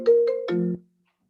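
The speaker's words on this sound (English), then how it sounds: "Somebody's phone." A phone ringtone going off during a virtual club meeting, a short melodic run of three or four bright electronic tones that stops abruptly, heard alone.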